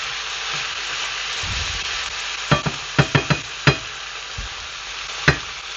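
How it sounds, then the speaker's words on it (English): Onion sautéing in a pan under a steady sizzle, with a spoon stirring and clinking against the pan in a quick cluster of knocks, then one more later. "To help take out the moisture from the onion, make it glossy."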